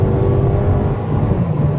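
A car accelerating hard at full throttle from 40 to 70 mph, a steady loud engine drone with a rising whir running without a break.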